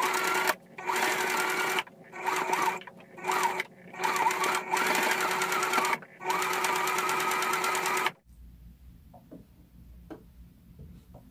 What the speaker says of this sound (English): So you want to make sure you have it on a straight stitch.